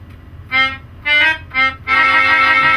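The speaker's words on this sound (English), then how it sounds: "This is a melodeon. It's the annoying half of an accordion." A melodeon played live on a comedy stage: three short reedy chords, then a longer sustained chord, loud and close with brief gaps between, no talking.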